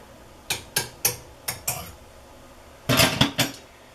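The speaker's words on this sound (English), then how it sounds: "now let's stir it up with this butter knife to make sure everything's nice and" Butter knife clinking against the inside of a mug while stirring a ginger-beer drink: five quick close metallic taps, a pause, then a denser cluster of four clinks.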